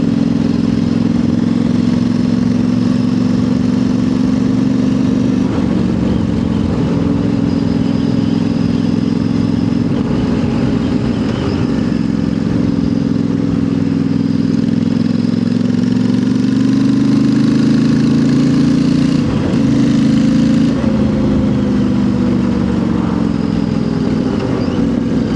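Royal Enfield Interceptor 650 motorcycle fitted with a new exhaust, idling steadily and loud up close with a deep, even throb, rising briefly with small throttle blips and no talking.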